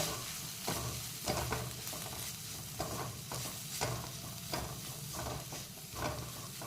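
Turmeric, coriander-cumin powder and garam masala are stirred together in a sizzling pan. Repeated scraping strokes of a spoon rise over a low, steady frying hiss.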